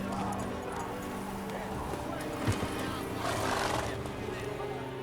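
Geralt's horse Roach in The Witcher 3 galloping, with rhythmic hoofbeats under a brief neigh, set against game ambience with a voice speaking nearby.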